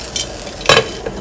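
A lid clatters onto a pot of simmering rice and peas on the stove, one bright metallic clank with a short scrape before and after, under faint background hiss.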